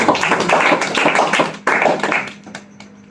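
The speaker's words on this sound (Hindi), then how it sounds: "जोरदार ताली बजाओ हमारे" A lecture audience claps loudly together for about a second and a half of dense, steady applause, then the clapping thins out into a few scattered claps and fades.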